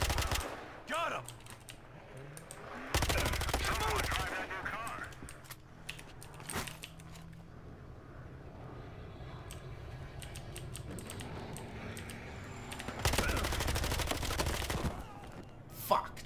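Gunfire in the video game Battlefield Hardline comes in two loud dense bursts, the second near the end, with quieter scattered game sounds and a few sharp clicks between them.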